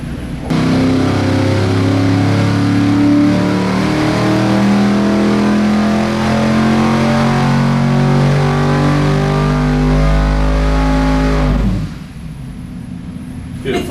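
A turbocharged flex-fuel car engine running a new tuned ECU revs hard and loud for about eleven seconds, its pitch climbing steadily before cutting off abruptly. The engine is close, and voices are faintly audible beneath it.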